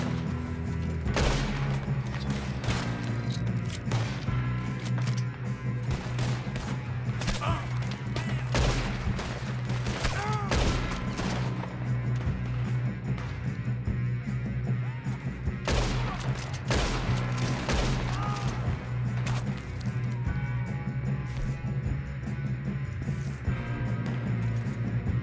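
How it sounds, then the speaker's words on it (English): Gunfire in the Red Dead Redemption 2 video game, with repeated sharp shots and bursts scattered irregularly across the whole stretch, some close and loud, others farther off, over a constant low ambient hum. "I still hear gunfire."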